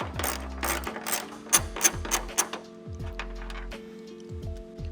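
A hand ratchet loosens a 12mm upper hood strut bolt on a 2025 Toyota 4Runner, giving several close bursts of rapid clicking that stop and start, with background music running underneath.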